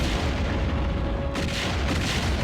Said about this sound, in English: The length of the carrier destroyed, a few explosions, not very exciting